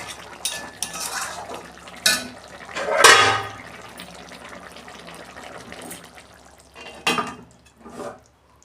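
Cooked food garnished with chopped coriander is tipped from a pan into a serving dish, giving metallic scrapes, clinks of utensils against cookware and soft wet slides of food, close and moderately loud.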